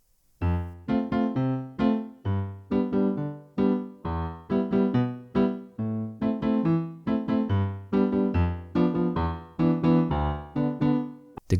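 A piano plays the chorus chords of a song in a steady, evenly spaced rhythm of struck chords, close and clear with no voices.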